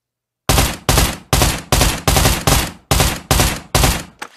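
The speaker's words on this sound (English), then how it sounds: "I'm going to do a few 3-round bursts just to show you how accurate this gun is." Submachine gun in the VR shooter Pavlov Shack fires eight short bursts in a steady rhythm, loud and close, each burst cracking out sharply with no talk over it.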